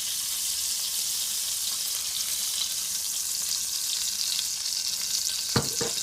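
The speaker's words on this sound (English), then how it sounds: "Heavy bottom pan, I'm going to put about 1 tablespoon of butter, and to that I'm going to add some olive oil." Butter and olive oil fry in a hot heavy-bottom pan with a steady bright hiss and crackle, close and continuous, with a couple of brief clinks near the end.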